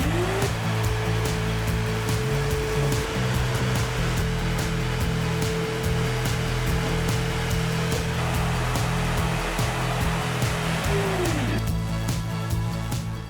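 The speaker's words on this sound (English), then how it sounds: "Today we're going to use the vacuum as a replacement for a brush to keep the fine particles down." A vacuum cleaner sucking up fine plaster dust during a brick farmhouse renovation roars with a loud, continuous motor hum and rushing airflow, its pitch rising and falling slightly, with faint clatter of debris underneath.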